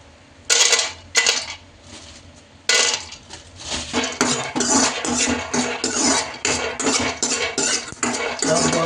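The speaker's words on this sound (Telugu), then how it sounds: "స్టవ్ వెలిగించి ఒక బ్యాన్ అయితే పెట్టుకున్నాను పల్లీలు అయితే వేయించుకోవాలి" Peanuts dry-roast in a pan on a stove for chutney: a few loud clattering bursts, then a continuous rhythmic rattle and scrape as the nuts are stirred and tossed.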